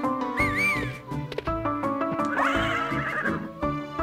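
A horse in the farming video game Harvest Moon: Save the Homeland gives a loud, clear whinny with a rising, wavering call, followed by a second fuller neigh and some clip-clop.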